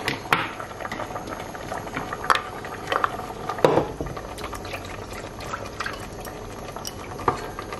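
A pot of Owo soup with crayfish and blended pepper bubbles steadily, a close, even boil broken by occasional pops and clicks, with no talking over it.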